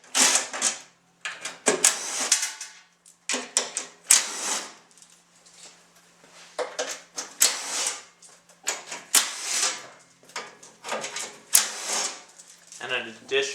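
Screws are worked out of the outer shroud of a Diamond Jet 1200 dust containment system in short bursts of clicking and rattling separated by pauses, close and fairly loud.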